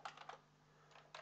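Several quick keystrokes on a computer keyboard during data entry in a database program: two short bursts of clicks separated by a brief pause, close and soft.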